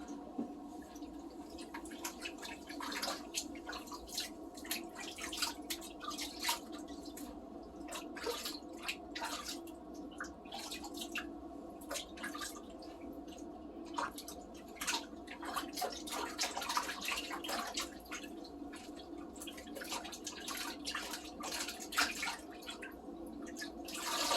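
Water rinses over a hen being bathed and drips off her wet feathers, a steady trickling spatter with scattered close drips running throughout, no voices over it.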